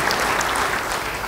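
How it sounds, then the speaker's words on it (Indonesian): A church congregation bursts into applause, dense sustained clapping from many hands filling the room, loud and even across the whole moment. "Beri tepuk tangan yang baik bagi dia."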